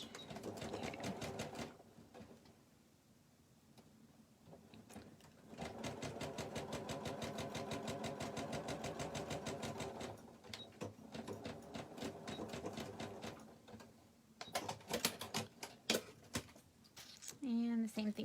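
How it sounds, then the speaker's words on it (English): A sewing machine runs a quarter-inch seam with a short back stitch, its fast mechanical chatter starting and stopping in several runs, while a person talks between and over the stitching. "we're going to sew a 1/4 inch seam. And do a little bit of a back stitch."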